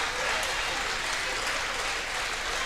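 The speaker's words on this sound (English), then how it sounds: "round of applause goes to these seniors as well, Ryan" Steady crowd applause fills a gym as seniors are honoured at a high school basketball game, a dense even wash of clapping from a moderately distant audience, with no voices on top.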